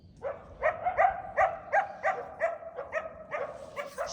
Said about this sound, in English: I know it sounds like there's about 10 coyotes, but there's really just two.